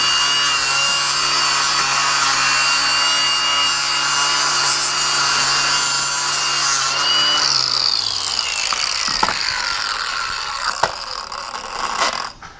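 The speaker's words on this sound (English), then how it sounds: "So basically we're just taking off the rust on this caliper bracket." Rust being scrubbed off an early Ford Mustang caliper bracket from a 1965 Fastback with a power tool, a loud continuous abrasive whir that winds down near the end, followed by a few clanks.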